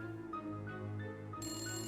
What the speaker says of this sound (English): Do I hear a phone ringing?